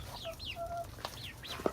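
Chickens roosting together in a tree at night, including a rooster and a Buff Orpington hen, give soft scattered clucks and short squawks close by, a few quick calls with brief sharp peck-like taps, no talk.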